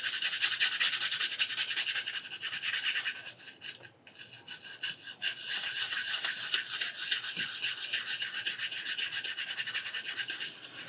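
Brush scrubbing a cassette tape with alcohol, rapid rhythmic bristly rubbing strokes close up, with a brief pause near the middle before the scrubbing resumes.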